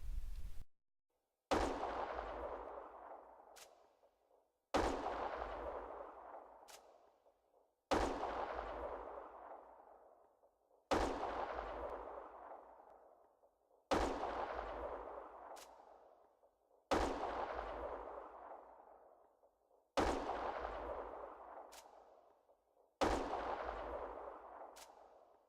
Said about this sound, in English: you can hear the switch between guns, whether it's a sniper, a pistol or a rifle